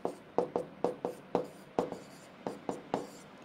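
Marker or chalk writing on a board during a chemistry solubility-product problem, about ten short distinct strokes and taps in an uneven rhythm, close and clear with no talk.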